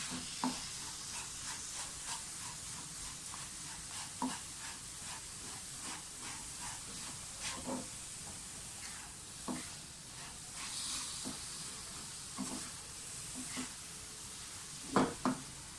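Suji halwa with milk is stirred in a pan over a steady, soft sizzle and hiss, while a spoon scrapes and taps the pan at irregular moments throughout.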